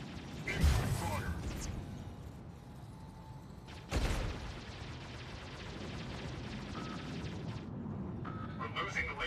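Gunfire and heavy mechanical weapon blasts from the mech combat video game Mech Arena, with sharp bursts near the start and around four seconds, followed by sustained rattling fire and whirring machinery.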